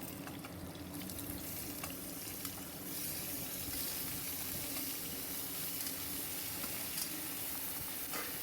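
Sliced ridge gourd with potatoes sizzles in a hot pan, a steady crackling hiss that carries on without a break and with no voices.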